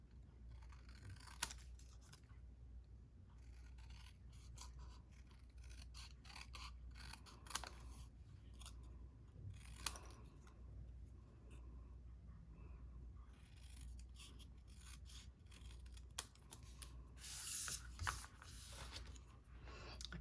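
Scissors snip paper, fussy-cutting a piece for a handmade card, as quiet scattered clicks and snips over about twenty seconds against a low, steady hum.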